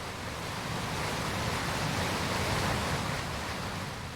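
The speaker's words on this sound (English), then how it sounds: "Cleverly hidden behind the waterfall." A waterfall in the video game Outer Wilds, a steady broadband rush of falling water heard alone, loud and constant for several seconds.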